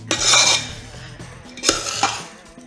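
Mutton biryani stirred in a pot, a metal spoon scraping and clinking against the vessel in a few uneven strokes, close and fairly loud with no talk.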